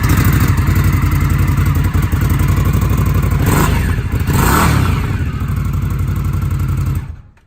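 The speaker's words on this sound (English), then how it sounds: "there we had the stock exhaust for the 2019 Indian Scout" A 2019 Indian Scout Bobber motorcycle on its stock exhaust runs close and loud, blipped through a couple of revs in the middle before cutting off abruptly at the end.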